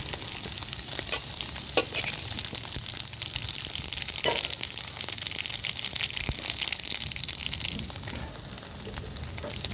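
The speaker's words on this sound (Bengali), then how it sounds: "কড়াইতে দিয়ে দিচ্ছি সর্ষ আর শুকনো লঙ্কা ফোড়ন" Mustard seeds and dry chillies tempering in hot oil in a wok, a dense steady crackling sizzle with scattered pops and stirring scrapes, close and continuous with no voices.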